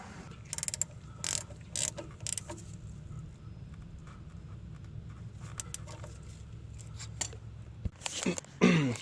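Ratchet wrench snugging a 13mm bolt during CVT transmission replacement on a 2011-2015 Nissan Rogue, quiet clicking in short bursts with metallic clinks and faint shop background.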